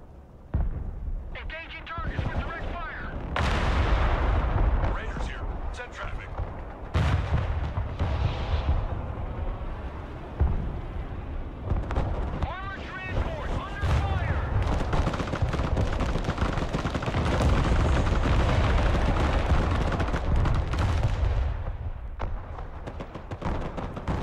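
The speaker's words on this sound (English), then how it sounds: "My artillery is targeting the artillery." Artillery fire and other gunfire in the video game Broken Arrow, with dense, continuous booms and crackling bursts throughout, loud and close, while players talk over the battle.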